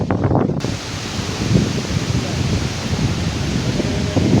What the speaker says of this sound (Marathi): वादळाचा वारा सुटला